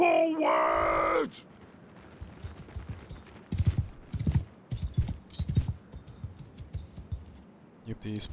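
Horses galloping in the medieval combat game Mount & Blade II: Bannerlord, heard as irregular thudding hoof beats amid battle noise, with groans and shouts mixed in after a loud opening burst.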